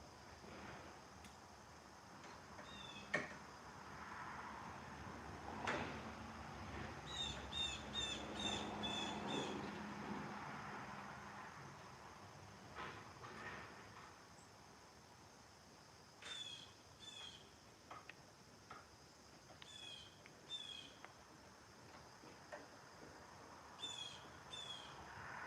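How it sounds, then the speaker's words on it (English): Birds sing outdoors with repeated high chirps and calls, and crows caw now and then, moderately distant during woodworking on a cabinet door, with soft knocks and rustles between calls. "People hear the birds."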